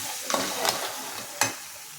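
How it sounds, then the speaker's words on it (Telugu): Crab curry sizzles in a pan while a spoon stirs it, giving a few scraping strokes and clinks over a steady frying hiss, close up and with no voices. "ఇప్పుడు మనం ఒకసారి కలిపేసుకుని వాటర్ పోసేసుకుందామండి"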